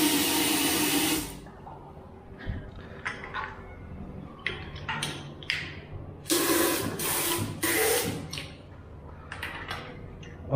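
Fast-running tap water rushes in a hotel bathroom in Melaka, starting as a strong hiss, then fading to a lighter trickle broken by clinks and bursts of spray.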